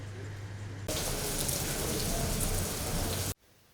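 Rain falls steadily during a school visit on the western plateaus, a dense hiss of drops on surfaces that swells louder for a few seconds before cutting off abruptly.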